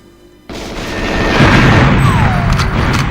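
A shot fired at boxes in the GoldenEye video game lands as one sharp boom, followed by a swelling, sustained rumbling roar that fills the rest of the moment.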